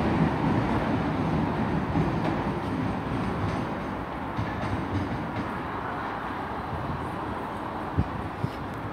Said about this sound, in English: departing out is 444003 with the service to Weymouth